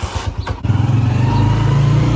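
A motorcycle engine starts up after a few cranking pulses, then settles into a loud, close, rapidly throbbing idle and rev that holds steady to the end.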